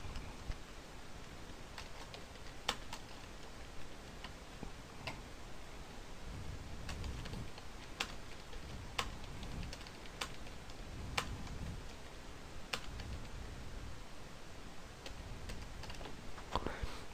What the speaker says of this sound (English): So let me put the microphone down so I can type.